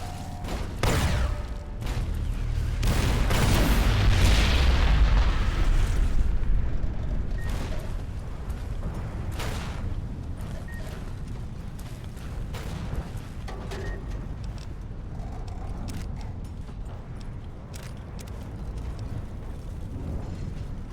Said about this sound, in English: You would think that explosion would knock out the shield, but it hasn't.